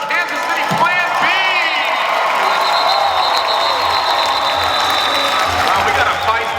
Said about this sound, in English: we got a feisty crowd out here tonight